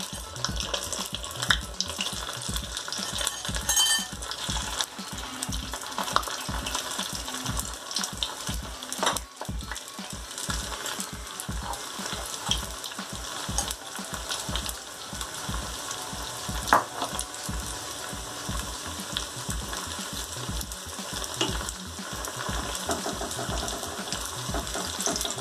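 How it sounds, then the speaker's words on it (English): Cauliflower pakora fritters deep-frying a second time in fully heated oil, giving a steady, dense sizzle and crackle throughout with no talk. "Now the oil is fully heated. Now add this pakoda again"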